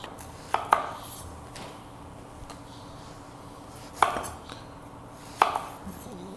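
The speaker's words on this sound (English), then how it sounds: "Now we're going to slice our Brussels sprouts." A kitchen knife slices Brussels sprouts on a board, giving a few sharp, separate cutting thunks spread far apart over otherwise quiet room tone.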